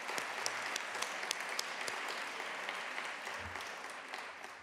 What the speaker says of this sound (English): round of applause to everybody here who's involved in that